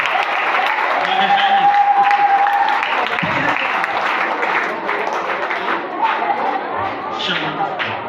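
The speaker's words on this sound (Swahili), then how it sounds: "Wapigeni makofi." Sustained applause fills a church Sunday service, many hands clapping in a loud, even roar that thins a little toward the end as scattered voices and chatter come through.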